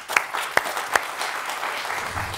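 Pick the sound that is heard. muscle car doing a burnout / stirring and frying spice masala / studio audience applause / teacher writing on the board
studio audience applause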